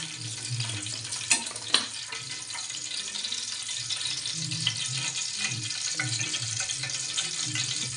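Oil heating in a pan for cooking mutton, with a soft, steady sizzle and hiss throughout, broken by a couple of brief knocks near the start; no voices.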